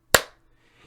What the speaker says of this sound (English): So if you clap,